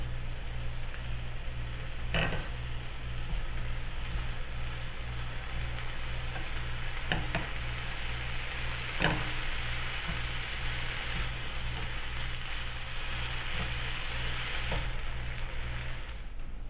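Green beans with garlic fry steadily in a pan, a continuous close sizzle with a constant hum underneath and a few brief clatters of stirring.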